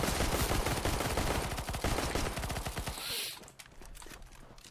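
Rapid automatic gunfire in CS:GO, a fast rattling burst of many shots that stops abruptly, followed by a short hiss and faint footsteps.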